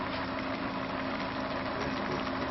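A motor runs at a steady, loud drone with a constant hum, speeding up once the conventional coils are unhooked from it, heard alone without speech.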